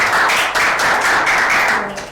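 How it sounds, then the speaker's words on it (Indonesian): Group of students clapping in a classroom during a teaching session, a steady burst of overlapping claps that runs throughout and fades slightly at the end. "Tepuk tangan untuk kalian."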